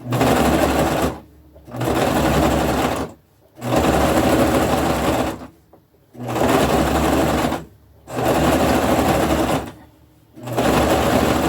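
Small household sewing machine stitching a braided rug, running in loud rapid bursts of about one to two seconds separated by short pauses, close up with no talking.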